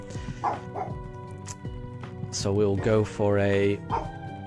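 A pet dog barks several times in short yips and bow-wows behind someone talking, with a few louder barks near the middle and his voice continuing over them.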